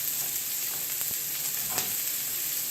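Onions frying in hot olive oil in a pan, with garlic about to be added for a spicy sausage and shrimp dish, give a steady close sizzle and crackle with a few brief pops.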